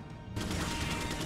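Pistol gunfire in the video game Resident Evil 4 comes as a loud, dense burst of rapid shots that starts abruptly and runs steadily to the end, close and with no speech over it.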